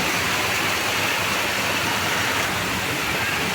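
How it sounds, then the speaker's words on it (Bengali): Heavy rain pours down during a monsoon downpour over a waterlogged neighbourhood, a dense, steady hiss and roar that stays even and unbroken throughout, with no voices. "ও মা কি বৃষ্টি হচ্ছে প্রচুর বৃষ্টি"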